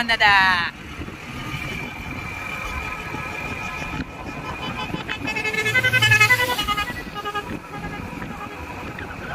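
A vehicle horn toots in short repeated bursts while travelling to a wedding in Diu, with road rumble and people talking over it.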